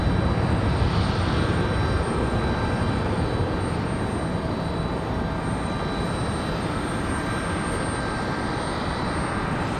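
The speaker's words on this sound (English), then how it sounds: "This arrival coming in from Philadelphia, Republic Airways at 4411, E175LR." A Republic Airways Embraer E175LR jet arriving from Philadelphia at Raleigh Durham airport produces a loud, close, continuous engine roar with a high whine running throughout, no voices present.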